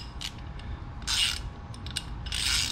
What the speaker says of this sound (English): So we're going to use the 7/8 ratchet.